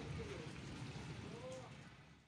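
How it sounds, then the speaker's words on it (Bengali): Steady rain falls through a morning with thundery clouds and lightning, giving a soft, even hiss throughout. The rain sounds fairly faint, with a muffled thump near the end. "কীরকম বৃষ্টি আরম্ভ হয়েছে দেখো"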